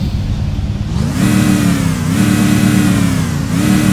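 A Dodge Challenger engine in the Drag Racing Classic video game revs hard and steadily climbs in pitch, dropping briefly at each gear change, loud and close with no talking.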